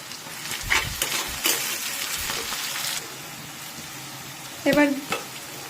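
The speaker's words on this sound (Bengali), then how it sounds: "এবার দিচ্ছি রসুন বাটা আর টমেটো কুচি" Garlic paste and chopped tomato frying in a pan for biryani, a hissing sizzle that flares with stirring clatter and then settles into a steadier fry, with a burst of scraping and a voice near the end.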